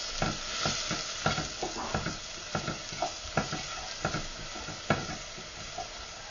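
Vegetables with garlic chives are sautéed in a pan under a constant sizzle, with rhythmic scraping strokes of a spatula about twice a second. No voices are heard.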